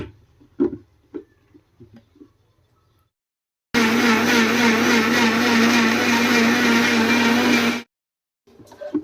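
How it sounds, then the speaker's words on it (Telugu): Kitchen mixer grinder whirring loudly and steadily for about four seconds as it grinds sugar with cardamom, with quiet handling clicks before and after. "దీంట్లో ఇలాచి వేసేసుకొని ఇప్పుడు మనము దీన్ని మిక్సీ పెట్టుకుందాము."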